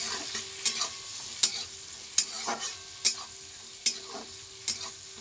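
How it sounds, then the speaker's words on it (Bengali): A spatula scrapes and stirs onion, tomato and chilli frying in a pan, with sharp clicks of the utensil against the metal about once a second over a soft sizzle, close and with no talking. "টমেটোটা দিয়ে এইটাকে পেঁয়াজটাকে একটু ভালো করে কষিয়ে নিই"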